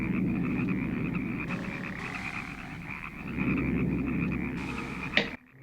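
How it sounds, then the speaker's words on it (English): A dense chorus of frogs croaks continuously and loudly in the horror film Day of the Frogs, a steady throbbing din that swells midway and cuts off abruptly at the end. "What if he was literally driven crazy by all the croaking?"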